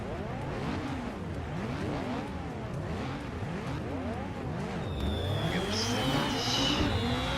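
Racing jet-ski engines in the video game Riptide GP2 drone and rev continuously, their pitch rising and falling in repeated sweeps as they race, with a higher whine and splashy effects joining toward the end.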